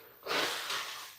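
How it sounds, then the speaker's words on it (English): A person blows their nose once, a short breathy snort with a brief second push, close and moderately loud. "I'm gonna blow my nose"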